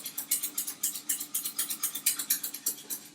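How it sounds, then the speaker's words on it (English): A whisk beats thickening homemade custard in a pan in a quick, even rhythm, each stroke a bright scraping swish, close and clear with no voices. "And I haven't actually stopped whisking it, so it's got no chance of catching on the bottom"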